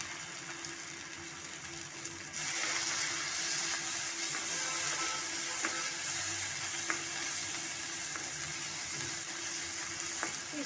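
Tomatoes and masala sauté in a pan for mutton masala, giving a steady, continuous sizzle with a faint occasional stir, close and unbroken, growing slightly louder after a couple of seconds.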